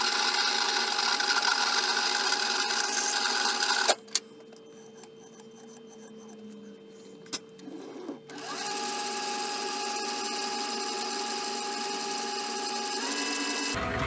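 Metal shaper machine cutting dry: a steady mechanical whir and rasp runs loud, drops to near quiet for a few seconds with a couple of clicks, then resumes its even grinding drone.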